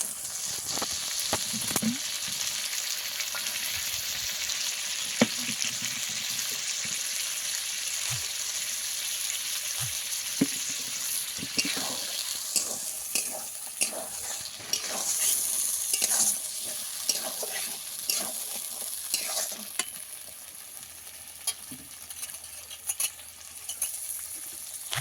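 Mustard paste stirred and added to a frying pan while cooking Bengali potol posto, a steady close sizzle with scraping stirs and occasional spatters, no talking.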